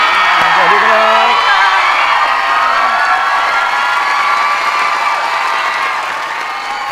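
Studio audience of a Thai dating game show applauding and cheering as a contestant is welcomed, a loud dense roar of clapping, whoops and shouts that holds steady for several seconds before easing slightly at the end.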